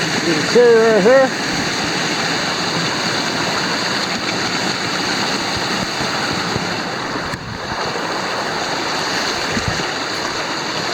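Water from a creek along the Mid State Trail tumbles down in a constant, close rushing wash that never lets up, with a short high whistle-like tone near the beginning.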